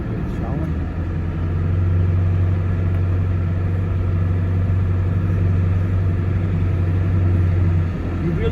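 A monster truck engine drives across a rain-soaked lawn, a loud, close, steady low rumble that holds evenly for several seconds, with a voice talking over it.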